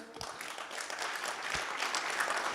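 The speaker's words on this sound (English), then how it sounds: "let's give him a huge round of applause" An audience at the NextGen Dubai national launch event gives a round of applause, a dense, steady wash of many hands clapping that holds at an even level for a couple of seconds with no one speaking over it.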